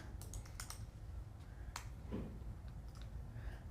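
Quick, light clicks of fingers typing on a computer keyboard, a loose irregular run of taps played quietly over a steady low hum of room noise.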